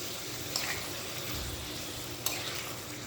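Food being stirred in a pan over steady frying sizzle, with a couple of sharp scrapes of the utensil against the pan, close and continuous.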